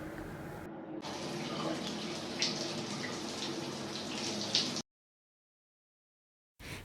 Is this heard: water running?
yes